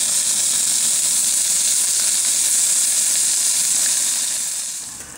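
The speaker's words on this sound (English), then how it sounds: "cooking pork chops in a Dutch oven." Pork chops sizzling steadily in a Dutch oven over coals, a loud continuous frying hiss that holds evenly and eases off at the very end.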